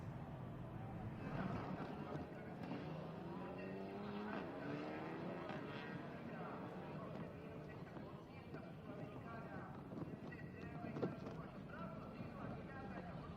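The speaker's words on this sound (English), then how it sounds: "And here are the cars heading into the starting grid." TCR touring race cars roll toward the starting grid after a formation lap, their engines a dense, steady, distant drone beneath continuous commentary.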